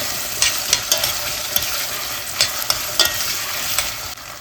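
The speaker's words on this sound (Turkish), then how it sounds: "Patatesle de yine aynı şekilde kavurmaya devam ediyoruz." Onions and potatoes sizzling and frying in a pan, with a steady hiss and occasional sharp clicks of stirring, close and continuous.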